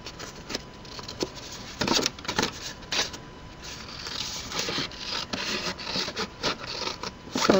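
Scissors or a blade trim the folded roof line of a handmade birdhouse, giving a run of close, crisp cutting and scraping strokes in an uneven rhythm with no talking.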